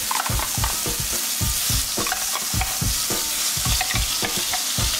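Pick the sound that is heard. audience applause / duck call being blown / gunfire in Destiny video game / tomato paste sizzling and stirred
tomato paste sizzling and stirred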